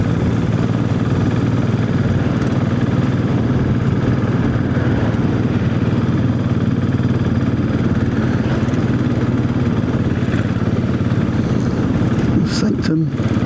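A Royal Enfield Classic 500 motorcycle pulling steadily in a high gear while riding, a constant low thumping engine drone with wind rush, loud and continuous throughout.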